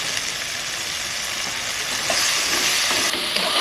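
Spice masala sizzles loudly in a pan with a little water added, a steady close hiss of frying with light stirring.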